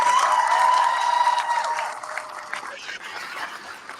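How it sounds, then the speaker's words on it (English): A crowd at a Palestinian solidarity rally in Dearborn, Michigan, applauds in a dense wash of clapping that fades over a few seconds while scattered voices and cheers carry above it. "Please give us a round of applause for Alexa."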